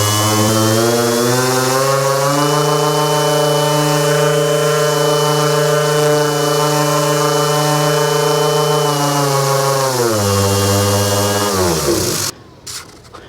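An Evergrade RGX Pro 316 cordless 16V dual action sander runs at high speed, producing a loud, steady tonal whine that shifts pitch slightly midway, then spins down sharply at the end.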